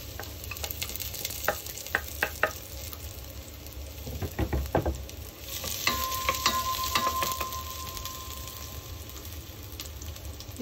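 Sliced garlic fries in a little oil, a steady close sizzle with scattered clicks and taps of stirring and a few sharper knocks.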